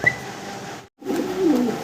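A large cross homer pigeon coos in low, soft, rounded bursts at close range, with a brief silent gap between calls.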